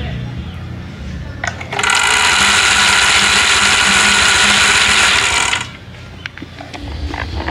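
An electric motor driving a water pump runs under load as a loud, steady whine for about four seconds, starting abruptly and cutting off, with faint speech and handling noise before and after.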